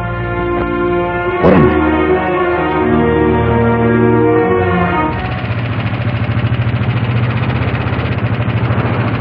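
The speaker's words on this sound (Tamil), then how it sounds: "என்னடா செல்வம், என்ன என்னைக்கு இல்லாம இன்னைக்கு வண்டி வேகமா விடுற?" A vehicle engine running close by, a steady loud mechanical drone with a brief knock early on, then shifting to a rougher, faster-pulsing rumble as it picks up speed.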